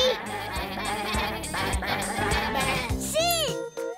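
A cartoon sheep gives a wavering bleat near the end of a bouncy children's music passage, loud and close, following a stretch of melodic backing.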